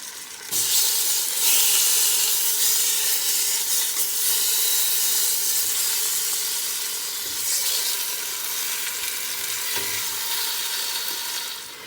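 Browning oxtails sizzle in a pan on low heat, a steady, bright hiss with soft crackles that swells slightly as the meat is turned, continuous and close with no voices.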